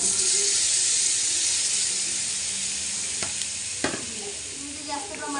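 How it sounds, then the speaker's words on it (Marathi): A loud, steady sizzle and hiss of steam rises from a pan of capsicum curry as water goes in, with a couple of sharp clinks and scraping stirs near the end. "आणि इथे मी पाणी ॲड करते"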